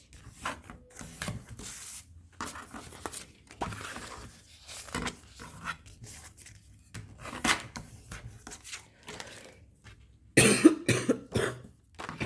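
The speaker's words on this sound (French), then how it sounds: "plus je parle et plus je tousse parce que la gorge me fait mal" A woman with a sore throat coughs repeatedly at a crafting table during scrapbooking, with short irregular coughs scattered over several seconds, one harsher burst near the end, close to the microphone amid small rustling and handling noises.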